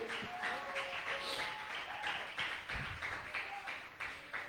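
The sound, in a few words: applause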